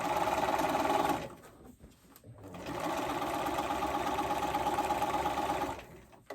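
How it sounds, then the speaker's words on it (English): A sewing machine stitches a romper strap about an eighth of an inch from the double fold, running in two steady bursts separated by a brief pause, close and unaccompanied by talk. "I'm stitching close to about 1/8 of an inch away from this double fold of the strap"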